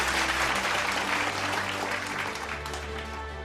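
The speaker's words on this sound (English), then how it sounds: "Let's all give our virtual applause for this cutting of the celebration cake of our 2 holidays." An audience at a True Children's Day and Foundation Day celebration claps steadily for a cake cutting, dense applause over low background music, fading slightly toward the end.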